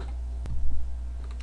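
A single keypress on a computer numpad's star key, one sharp click standing out against a steady low hum.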